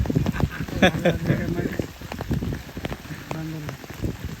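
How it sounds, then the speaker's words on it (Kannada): Heavy rain patters and hisses continuously on surfaces at a rice paddy field during planting, while people talk loudly over it nearby. "ಅಂತ ಪರಿ ಮಳೆ ಆಗ್ತದ"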